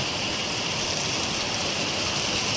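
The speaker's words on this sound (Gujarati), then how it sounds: "અત્યારે વરસાદ આવી રહ્યો છે ધોધમાર" Heavy morning downpour in a Gujarati village, a dense, unbroken roar of rain hitting surfaces, loud and steady throughout with no voices.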